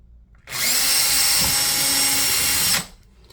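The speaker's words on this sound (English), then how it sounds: "I'm going to drill my pilot hole." A power drill bores a pilot hole in a Brooklyn PK13 kayak, one loud, steady high whine lasting about two seconds with a sharp start and stop, with quiet before and after.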